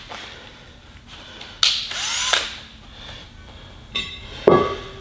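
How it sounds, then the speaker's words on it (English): A wire brush spinning on a drill cleans the bead seat of a tire rim, in short whirring bursts of scraping separated by quiet pauses. "Now what I have is a wire brush on my drill."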